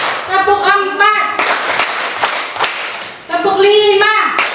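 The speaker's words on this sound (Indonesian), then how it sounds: "Kita tepuk. Tepuk 1, tepuk 2, tepuk 3, tepuk 4," Elementary school pupils clap in a rhythmic ice-breaking game in class. Sharp bursts of claps fall between stretches of a voice chanting the count.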